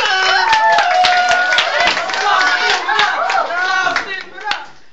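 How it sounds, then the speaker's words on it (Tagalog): Children clap rapidly and loudly under excited shouting voices, a busy burst of hand claps close by. "Palakpak mga bata! Palakpak! Palakpak!"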